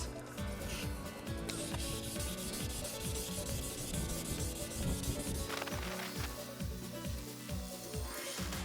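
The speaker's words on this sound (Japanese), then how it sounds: "次が1200番があったので1200番で磨いていきます。" A yellowed car headlight is sanded by hand with 1200-grit sandpaper, producing close, rhythmic back-and-forth rasping strokes in a steady repeated cadence with no talking.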